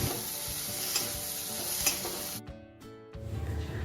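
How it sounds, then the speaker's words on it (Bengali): Okra frying with spices, a steady dense sizzle with stirring scrapes and ticks, loud and close, then briefly dropping away before the frying hiss returns. "মশলা ভেন্ডি সব ভাজা হয়ে গেছে"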